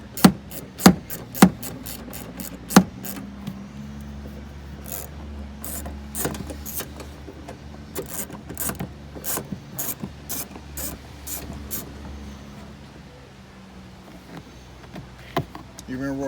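Bolts being tightened on a truck during home repair, with sharp metallic clicks and ratcheting bursts in quick runs, then scraping and rubbing, close by under occasional talk.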